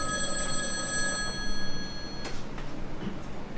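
A telephone rings in a stage play, a bright repeating bell tone heard fairly close and alone for the first couple of seconds before giving way to quieter room noise.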